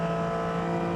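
A Porsche 718 Cayman GT4 Clubsport engine runs flat out on the Silverstone International circuit, a loud, steady, high-revving drone heard from inside the car, unbroken and dense.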